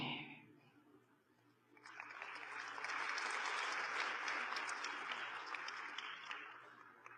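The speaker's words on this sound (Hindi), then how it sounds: "आपने अपने लिए ताली बजाई" Audience applause at a self-improvement talk swells after a quiet start into steady, dense clapping that holds for several seconds, moderately distant and without speech over it.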